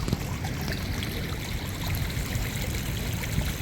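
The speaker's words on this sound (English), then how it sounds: "So you can see the path here just before the woods has completely turned into a bit of a river." Rainwater runs in a steady, even rush down a woodland path flooded into a small stream after heavy rain and strong winds, a continuous close trickling with no talk.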